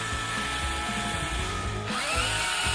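A small power drill fitted with its smallest bit bores into a wand, giving a steady, continuous whine that shifts in pitch partway through. The drill is close and runs alone, with no talking.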